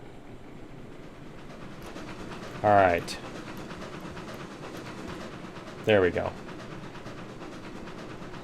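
A steam locomotive in the train game Railroads Online runs along the track at full steam, a steady rumbling rail noise throughout, with a voice speaking briefly over it twice.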